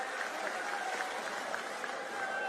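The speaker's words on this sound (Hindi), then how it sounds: "उनके लिए मैं आप सबसे आग्रह करता हूं जोरदार तालियों से स्वागत करें" A crowd applauds to welcome the chief guest, Sachin Pilot, at a public event. The clapping forms a steady, fairly faint wash with no breaks.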